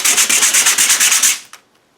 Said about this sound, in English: I'm bringing in a coarse sandpaper.